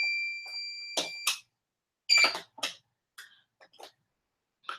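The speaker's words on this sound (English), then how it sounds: "so you may have the beeping in the background" Electronic fire or smoke alarm beeping in the background of an indoor room, sounding as repeated high-pitched tones in short bursts at irregular intervals, moderately loud with gaps of silence between them.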